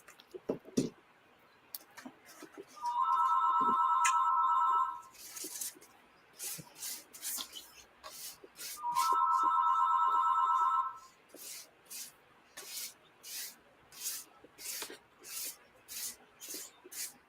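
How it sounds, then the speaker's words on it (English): An electronic phone ringtone chirps in two bursts a few seconds apart, with light clicking and rubbing noises around it. "Sorry, that's my phone that I'm not answering."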